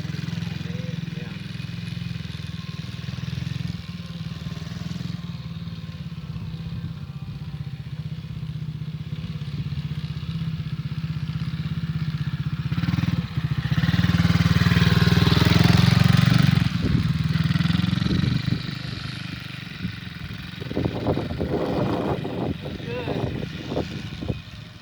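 A dirt bike engine runs steadily throughout with a constant low drone, swelling louder mid-clip as it revs, then clattering bursts near the end; people talk over it at times.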